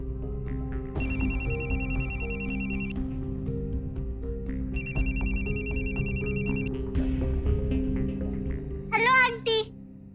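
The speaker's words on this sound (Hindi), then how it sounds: "चिराग का फोन" A mobile phone ringtone plays in two repeated bursts over background music and voices, followed by a short high electronic warble.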